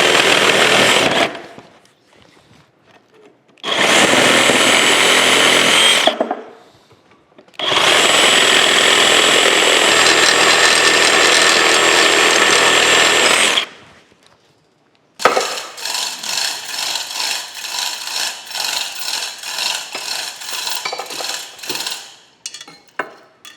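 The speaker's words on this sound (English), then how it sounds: "I'm just going to get my Sawzall. I'm just going to cut those off" A Sawzall reciprocating saw cuts parts off a John Deere Hercules cane mill during disassembly: three loud sustained buzzing bursts separated by silent gaps, then a rattling, pulsing stretch of cutting.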